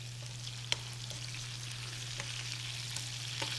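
Soy-marinated shallots crisp in hot oil in a restaurant kitchen, a steady broadband sizzle with a low hum beneath and a few sharp pops and spatters, fairly quiet and continuous throughout.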